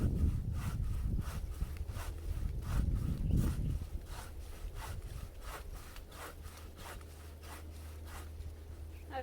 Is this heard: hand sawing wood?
yes